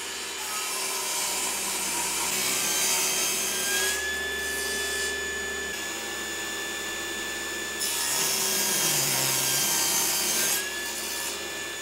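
A saw ripping wooden flooring into thin strips for toast tongs, a steady loud rasping drone in two long passes with a brief pause between, close and without talk.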